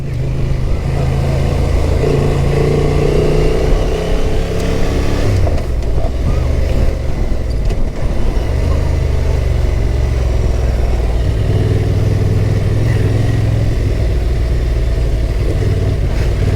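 A Honda Transalp motorcycle rides off road at an adventure bike festival, its engine note rising and falling as the rider works the throttle, steady and fairly close with no talking over it.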